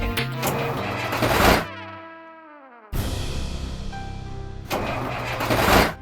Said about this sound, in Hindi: पता नहीं यार, गाड़ी नहीं स्टार्ट हो रही।